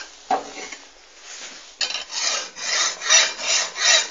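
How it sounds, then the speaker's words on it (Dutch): A hand saw rasps through material in repeated back-and-forth strokes, several even pulls following a single early scrape, close and clear with no talk. "Zag."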